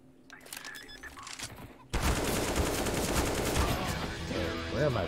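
Counter-Strike gunfire on the Inferno map erupts after a quieter opening into dense, sustained rapid shots that stay loud and continuous to the end.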